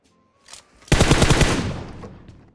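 Shooting video game gunfire: a single short shot, then a loud rapid automatic burst that rings out and fades.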